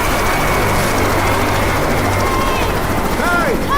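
A helicopter in the video game Left 4 Dead drones loudly and continuously with a steady rotor chop, mixed under game sounds and a character's voice.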